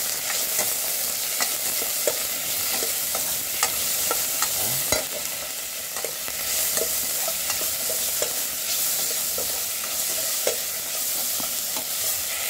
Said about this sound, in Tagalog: Ilagay na natin yung kamatis.